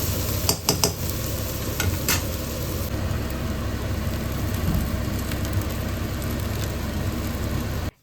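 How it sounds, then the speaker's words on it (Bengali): Carrots fry in a pan with a dense, steady sizzle and a low background hum. A few sharp spatula knocks come early, then even frying continues to the end. "তো এখানে আমি গাজর টাজরগুলো একটু ভালো করে ফ্রাই করে নিচ্ছি"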